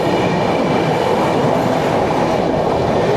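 A Duronto Express train runs into Thrissur station with a continuous loud rumble, rhythmic wheel clatter over the rails and a faint squeal, all without voices.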